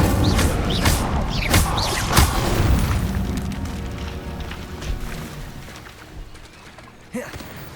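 Incendio fire spell cast in the video game Hogwarts Legacy: a few punchy, booming bursts of flame in the first couple of seconds, then a steady rumbling roar that fades, with a brief flare near the end.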